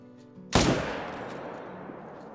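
A single sharp rifle shot at a bear in theHunter: Call of the Wild cracks loudly, then rolls into a long, fading echo across open terrain.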